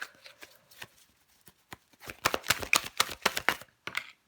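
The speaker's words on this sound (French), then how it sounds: "Une seule carte pour recouvrir la reine d'épée." Tarot cards laid down one at a time on a table to cover another card in a spread, giving a run of soft, close slaps and papery rustles that grow busier in the second half.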